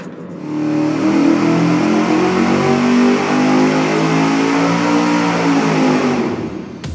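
A car engine revs hard through a $40 louvered tube muffler with open louvers facing the airflow, a loud rising and sustained exhaust roar that fades at the end.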